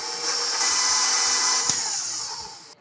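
A stand mixer with a paddle runs steadily while an egg is beaten into guava cheesecake batter, a loud continuous motor whir with a slight clack partway through, then cutting off at the end.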